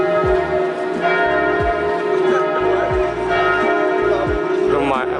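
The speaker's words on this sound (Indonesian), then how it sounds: "Ini suara lonceng dari gereja itu di depan" Church bells ringing in Strasbourg, France: loud, repeated overlapping peals with a sustained metallic hum, heard close by for several seconds without a break.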